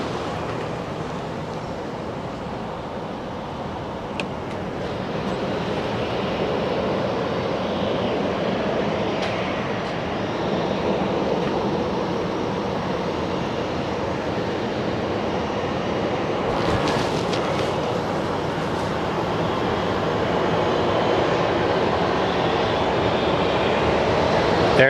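A steady, broad roar of an American Airlines Boeing 777 airliner landing at Sky Harbor International Airport, heard from a distance, with continuous wind-like rumble and no talk.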